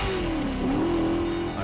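A Dodge Charger engine revs in a Super Bowl commercial, a sustained loud, steady tone that dips briefly and then climbs back up, heard alone without talk.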